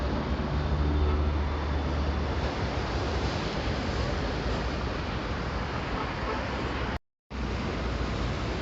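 Sea waves at a crowded Alexandria beach with high surf, a steady broad wash of breaking water and wind rush, continuous and fairly loud, with a brief dropout near the end.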